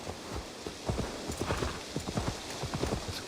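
Horse galloping in the video game Assassin's Creed Valhalla: a steady, fairly close clip-clop of hooves in a quick rhythm, repeating throughout over a soft background.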